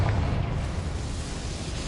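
A Confringo blast spell from Hogwarts Legacy goes off as a deep, rumbling boom that swells at once and then rolls on as a low, fading roar, loud and close with no talking over it.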